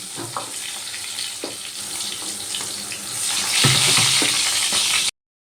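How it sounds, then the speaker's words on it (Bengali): Pointed gourd (potol) pieces frying in hot oil in a kadai make a continuous hiss that swells louder toward the end, with scattered soft clinks from a utensil. "পটলগুলো ভাজা হয়ে গেছে এবার আমি পটলগুলো তেল থেকে তুলে নেব"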